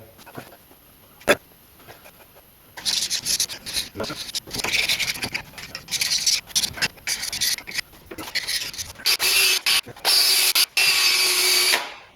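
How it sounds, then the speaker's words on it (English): A light wire wheel on a power tool scrubs light rust and old gasket material off the rear differential of a 2007 Silverado 1500 4x4. It comes in loud, rough bursts of grinding and rasping that stop and start, then run steadily near the end. "That was pretty light rust, so it came right off with the light wire wheel."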